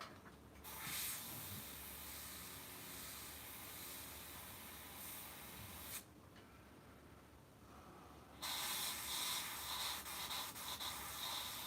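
An airbrush sprays paint in steady oversaturated bursts for a painted Hellraiser Pinhead underpainting, giving a continuous close hiss that stops briefly around six seconds and then resumes slightly louder.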